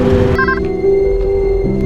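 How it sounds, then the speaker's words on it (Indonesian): A telephone call being dialed sounds as a few clear electronic tones in quick succession over a steady hum, close and fairly loud. "lalu menelpon John agar keluar dari rumah"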